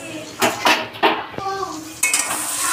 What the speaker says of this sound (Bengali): আমি এবারে ঢাকাটা খুলে ফেলবো।